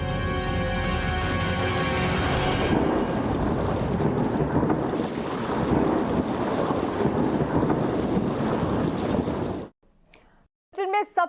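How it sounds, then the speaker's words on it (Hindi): Strong roaring wind and rough surf on the Kutch coast as Cyclone Biparjoy approaches, a loud continuous rumbling wash that cuts off abruptly near the end, followed by a brief snatch of sound. "विंड प्रेशर बहुत ज्यादा बढ़ चुका है और दूसरी तरफ पानी आप देखेंगे, लहरें अब कल के मुकाबले और ज्यादा उफान मारने लगी हैं"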